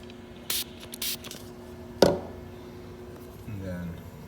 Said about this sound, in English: I just use a standard Q-tip